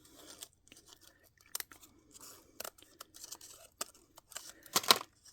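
Paper pieces for Easter basket grass are snipped with scissors and crumpled by hand, giving scattered close crinkles, rustles and sharp crunches with short pauses and a louder crumple near the end.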